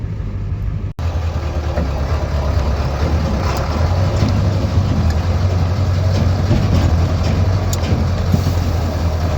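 A pickup truck engine idles on a farm, a steady low rumble that continues close and unchanging after a brief cut near the start.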